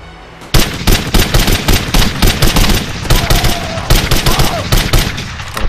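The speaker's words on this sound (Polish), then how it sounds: "Jeszcze słyszę strzały" Rapid bursts of video game gunfire from Code of Honor: The French Foreign Legion crack loudly and close, dozens of sharp shots in quick irregular volleys with brief gaps.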